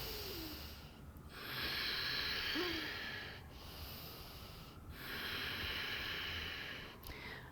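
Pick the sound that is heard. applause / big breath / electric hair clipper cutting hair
big breath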